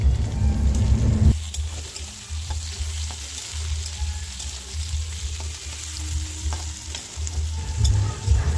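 Tomato goes into a black kadai for a breakfast of leftover rice and egg, setting off a loud, steady sizzle and frying crackle up close, with a low rumble underneath and no speech.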